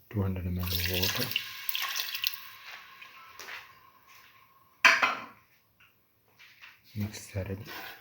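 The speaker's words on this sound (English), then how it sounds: "Now pour in 200 ml of water." About 200 ml of water is poured into a lentil mixture in a pot, a splashing pour that fades into dripping, alongside brief background tones and a sharp clink.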